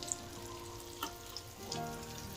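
Handvo batter, a savoury lentil and rice batter with vegetables, sizzling quietly in a hot pan as it is spread out, with a soft steady crackle and a few faint pops.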